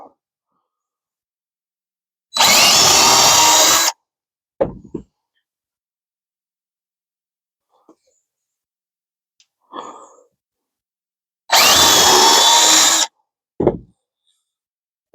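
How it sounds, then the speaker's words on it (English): A power drill bores into wood during chair seat assembly, heard as two loud, close bursts of about a second and a half each, separated by long quiet stretches with a few faint knocks and handling noises. "Drill, drill."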